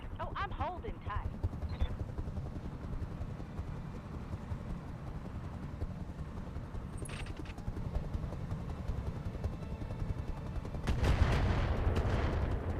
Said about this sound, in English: Okay, so they got mortars.